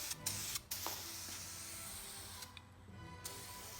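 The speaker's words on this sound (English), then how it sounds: "I'm using the old can on the bead area. It has a more narrow spray pattern compared to the new cans" An aerosol can sprays clear coat onto a wheel bead. Short hissing bursts come first, then a long, steady, close spray runs through most of the stretch with no talk.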